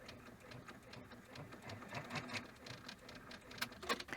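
An embroidery machine stitches an in-the-hoop gnome project, a quiet, rapid needle patter with small ticks running steadily throughout, close and low in level.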